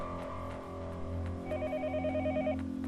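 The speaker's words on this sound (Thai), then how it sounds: "แล้วก็เสียงโทรศัพท์แม่งก็ ยังดังไม่หยุด" A payphone in the video game Yomawari: Night Alone rings with a repeated electronic trill over a low droning background, the ringing pulses steady and moderately loud.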